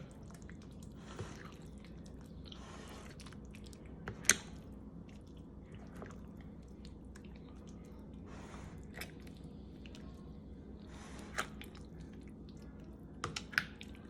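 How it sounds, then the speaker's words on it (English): Chicken pieces being stirred in a wet batter of flour, cornstarch, egg, water and oil, giving soft, quiet squishing and dripping sounds with occasional sharp clicks of a utensil against the bowl. "The whole thing here is just to make sure we get stirred up enough so that there's a good coating on all the chicken."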